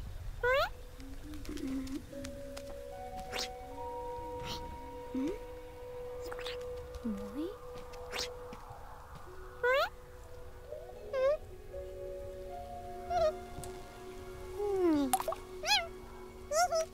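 A cat in the jungle of the game Planet of Lana gives repeated short, faint meows scattered across the stretch, mixed with soft drips and plops, while a voice talks quietly over the ambience.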